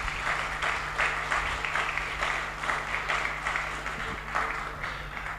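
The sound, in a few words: louder applause at a funeral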